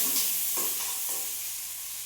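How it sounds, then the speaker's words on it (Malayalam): Six small onions, finely chopped, sizzle and crackle as they sauté in hot oil in a pan, a brief, steady frying hiss with soft stirring strokes and no talking. "ഉള്ളി നന്നായിട്ട് മൂക്കുന്നത് വരെ വഴറ്റി കൊടുത്തിട്ടേക്ക്"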